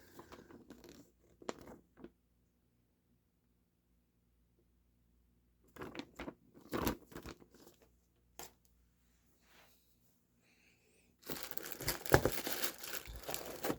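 Plastic bag crinkling as a KWC full metal Mini UZI 4.5mm CO2 airsoft gun is unpacked from its box, quiet scattered rustles and handling noises with long silent gaps, ending in a louder sustained crinkle.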